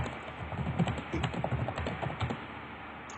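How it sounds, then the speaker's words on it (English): Rapid, furious clatter of keys on a computer keyboard, a dense run of close clicks and taps going on steadily with no talking. "You hear him furiously typing while definitely not arguing in voice."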